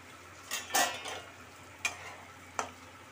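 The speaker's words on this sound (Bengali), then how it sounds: "গ্যাসটাকে মিডিয়ামে রেখে ভেজে নিচ্ছি, যাতে তাড়াতাড়ি সিদ্ধ হয়ে যায়।" Cut capsicum pieces fry in oil over a medium gas flame, a faint soft sizzle punctuated by a few sharp clinks and scrapes of a utensil stirring in the pan.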